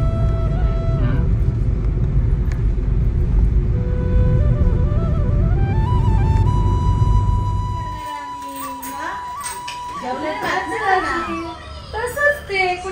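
A car drives along a road, heard from inside as a loud, steady low rumble for most of the stretch that then drops away. Children's voices and chatter come through over and after the road noise.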